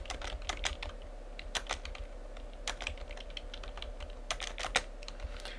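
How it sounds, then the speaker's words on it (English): Steady typing on a computer keyboard while entering text into an email newsletter editor, irregular key clicks with occasional louder taps, close and continuous with no talk. "And I'm just going to type in some information here."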